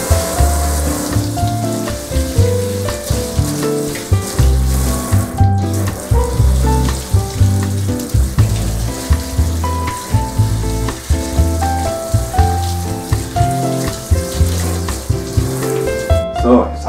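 Trout are rinsed under running water at a sink, with splashing, running-tap hiss and repeated handling sounds in an uneven rhythm, loud and close throughout.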